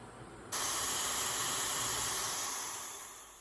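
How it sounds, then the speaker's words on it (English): A pressure cooker hisses steadily on high heat while soybeans are prepared for natto, the hiss jumping in abruptly and holding loud and continuous before easing slightly, close and alone. "I will start heating up the pressure cooker under high heat first."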